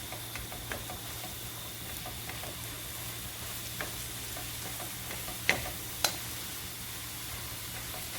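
A beef lasagna meat sauce fries in a pan while being stirred. A steady low sizzle carries light scraping and a couple of sharp utensil knocks near the end, and nobody speaks.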